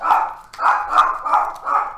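A dog barks five times in a steady rhythm, each bark loud and close, indoors near a door with no talking over it.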